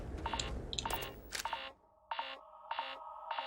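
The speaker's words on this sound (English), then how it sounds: "It's still beeping even in the loading." Repeated electronic beeping in Starfield during a loading screen: steady, evenly spaced tonal beeps, a busier cluster first, then a short gap and three clean, regular beeps.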